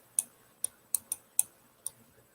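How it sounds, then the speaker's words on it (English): Six sharp, close computer mouse clicks come in an irregular sequence over a quiet background, with no speech. "I'm clicking to copy, but it's not copying."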